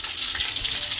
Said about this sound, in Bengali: পটল ভাজছে